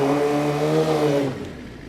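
Motorcycle engine revving hard during a burnout attempt on loose, slippery ground, a loud sustained roar with a steady high pitch that cuts off abruptly, leaving a quieter idle.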